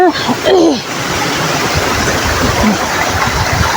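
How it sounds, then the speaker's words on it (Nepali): Water pours steadily from a tap at the source of a village irrigation canal, a close, continuous rushing hiss that fills the whole stretch, with a brief voice and some handling noise at the start. "यहाँ धारा छ"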